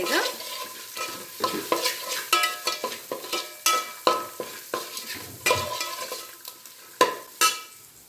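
A utensil scrapes and stirs turmeric powder in a frying pan with a rhythmic series of clatters over a soft sizzle, steady and close.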